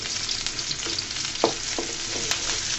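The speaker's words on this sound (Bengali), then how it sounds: "দিয়ে দিচ্ছি বেশ কিছু রসুন। রসুনটাকে আমি হালকা করে বাদামি কালার করে নিব।" Garlic fries in hot oil in a pan, a steady close crackling sizzle with a few brief louder pops and spits, and no talking.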